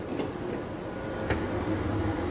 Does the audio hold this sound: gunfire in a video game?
no